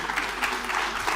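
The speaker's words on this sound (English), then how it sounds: "So we need applause for that" Brief burst of audience applause in a hall, a dense, even clatter of many hands at moderate volume.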